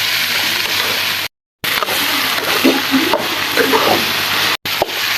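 Half a kilo of chopped onions fries in oil with a loud, dense sizzle and occasional stirring scrapes, heard up close with two brief silent gaps and no talking.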